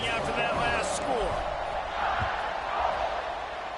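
A stadium crowd in the NCAA football video game buzzes and murmurs steadily at a moderate distance, with a faint whoop rising from the noise and no voices in the foreground.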